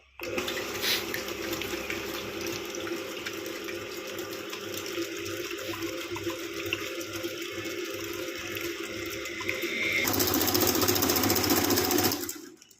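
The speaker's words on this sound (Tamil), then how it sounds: "இப்போ நம்ம நார்மல் ஸ்பீடில் ஓட விடலாம்" Electric mixer beating eggs and sugar for a bakery-style ghee cake, a steady loud whirring drone that runs throughout and grows louder near the end as the speed rises.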